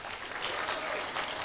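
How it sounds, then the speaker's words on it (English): Workshop audience clapping, a dense even patter of many hands at moderate distance, steady for the whole short burst with no voices over it. "Please, claps, please."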